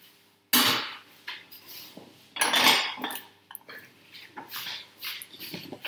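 Freshly popped popcorn is tipped from a pan into a bowl, giving a few loud rattling, clattering bursts of kernels and utensil contact close by, no talk.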